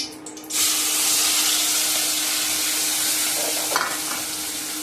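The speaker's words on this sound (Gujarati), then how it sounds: "તેલ ગરમ થઈ ગયું છે તો આપણે પહેલાં તો મરચાં અને લસણ નાખી દઈશું." Green chilies and garlic drop into hot oil and burst into a loud, continuous sizzle that holds steady, with a brief flare of crackling partway through.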